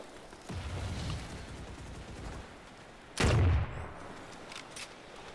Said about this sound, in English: I'm just firing at the odd thing if it's in the way.